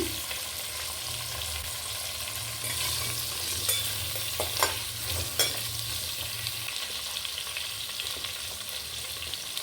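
Drumstick (moringa) pieces are stirred in a pan while cooking for sambar, giving a steady sizzling hiss with a few scraping clicks of the spoon against the pan, close and continuous with no talk.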